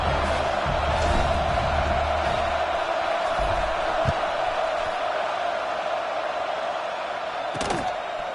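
Stadium crowd in College Football 26, a dense, steady roar of massed voices with a constant tonal hum and faint shouts in a continuous wash.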